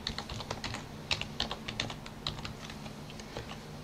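Steady, light keystrokes on a computer keyboard as a password is entered during a Ubuntu 17.04 Server installation, a quick run of soft clicks close by with low hum behind and no talk.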